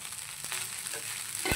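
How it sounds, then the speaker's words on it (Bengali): Rice fried with potato, onion, green chilli and egg gives a faint, soft sizzle in the pan, broken by a couple of brief stirring scrapes. "আমি আলু পেঁয়াজ কাঁচা লঙ্কা আর ডিম দিয়ে ভেজেছি ভাতটা"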